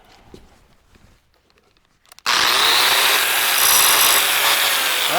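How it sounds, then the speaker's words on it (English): An angle grinder cuts into a bearing retention groove on an asphalt crusher, its loud continuous grinding roar starting abruptly after a quiet stretch of faint handling noise and holding steady up close. "So I'll grind a section and then you turn it, and we'll just keep doing that."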